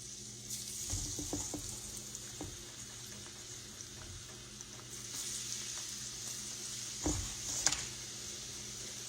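Eggplant cubes frying in grease give a steady, moderate sizzle throughout, with a few brief clatters and splashy bumps near the start and again toward the end, and no talking.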